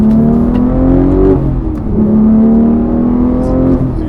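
A Porsche 911 GT3 Touring accelerating, its engine note climbing in pitch through a gear, dropping at a shift, then rising again. Loud and close, heard from inside the car, with no talking.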